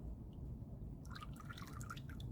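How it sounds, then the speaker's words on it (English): Water drips faintly off a pot freshly dipped in water for nail-polish marbling, a few soft, scattered drops landing over a low background hum with no talk. "Let it drip a little bit."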